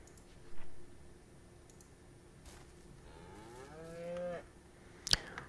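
Cows mooing in a farm video game, a long drawn-out moo rising and falling over a quiet background with a few soft clicks, followed by a sharp click at the end.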